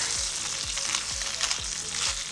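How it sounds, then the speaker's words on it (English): Steady crackling sizzle of chicken frying in an air fryer, with a soft rhythmic tapping repeating about every half second underneath. "It's frying."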